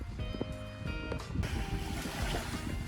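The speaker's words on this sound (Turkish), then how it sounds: "Hafif rüzgarın sesini duyuyorsunuzdur, dalga sesleri." Gusty wind rushes over the microphone while waves wash and surge nearby, with a few faint knocks early on.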